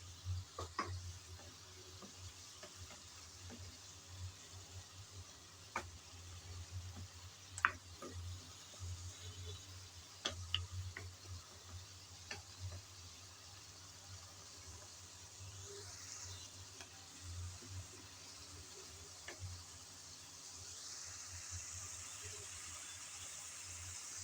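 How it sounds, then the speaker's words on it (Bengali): Ginger, garlic, snake gourd and shrimp stir-frying in a pan, a faint steady sizzle with scattered clicks of a utensil stirring, fairly quiet throughout. "আদা রসুন সবজি চিংড়ি সব নেড়েচেড়ে ভেজে নিয়েছি।"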